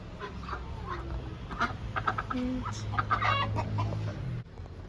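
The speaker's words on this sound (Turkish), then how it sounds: "Bu horoz hiç misafirperver değil." A rooster clucks and makes short throaty calls over a low background hum, with a few scattered louder squawks; no one speaks.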